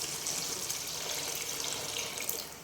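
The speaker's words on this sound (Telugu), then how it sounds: "ఇప్పుడు మనం వాటర్ వేసుకోవాలి" Water pours steadily into a pot of mutton curry during cooking, making a continuous soft splashing hiss that holds fairly faint throughout.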